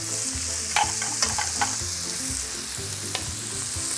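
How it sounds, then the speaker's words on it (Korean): Pork neck sears in oil like a steak with a loud, constant close sizzle and a few sharp spatter pops early on. "목살은 지금 기름 하나도 안 나는데 기름에서 이렇게 스테이크처럼 구워지잖아요"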